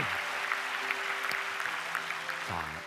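Church congregation clapping together to bless and encourage young deacons, a steady wash of applause with organ or keyboard tones sustained underneath throughout.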